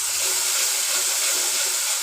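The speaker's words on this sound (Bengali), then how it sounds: "মশলাটা কষাবো।" Ground spices with coriander, chilli and cumin powder frying in oil in a pan, a steady loud broadband hiss and sizzle running evenly throughout with no talk.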